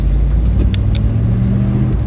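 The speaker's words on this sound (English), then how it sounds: "These Stag 3-litre V8 engines do sound nice and this is no exception, it sounds beautiful." A 1974 Triumph Stag Mk2 with a 3-litre V8 and manual overdrive pulls away with the hood down on a warm day, its steady low engine rumble loud and close, with no talk.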